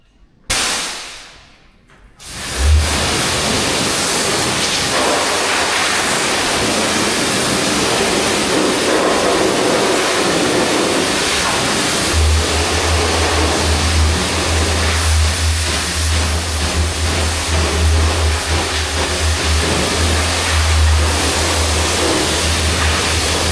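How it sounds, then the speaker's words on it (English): A water hose blasts down the frame of a Peterbilt 379 truck, a steady loud broadband spray that runs continuously, with a lower rumble joining partway through, and no voices. "I'm gonna get that hose again, get on top of the frame there, and just blow it all down"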